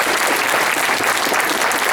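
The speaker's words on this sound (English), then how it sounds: "how about let's have some applause" Dense, steady applause from an audience at a family celebration, a loud continuous patter of many hands clapping close by with no pauses.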